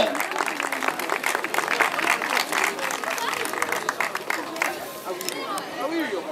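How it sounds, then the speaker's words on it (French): Spectators at a Châteaugiron cyclo-cross race applaud the minimes podium, scattered outdoor clapping mixed with crowd chatter and an announcer's amplified voice throughout. "Et les applaudissements du public, vous avez bien raison, pour le podium des minimes."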